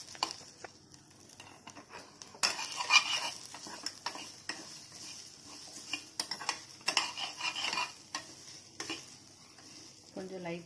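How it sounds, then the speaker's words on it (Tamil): About fifteen small onions (shallots) fry in a pan for a fish curry, a low sizzle under repeated spoon stirring and clinks of metal on the pan. "அது ஃப்ரை ஆகிட்டே இருக்கும் அப்படியே."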